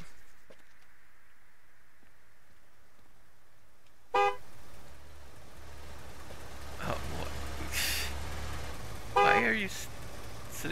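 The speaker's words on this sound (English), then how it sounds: "Sitting there honking at the guy that's parking in another spot." A car horn honks in the video game Gas Station Simulator, a few short, separate toots over low engine idling, with a voice talking in between.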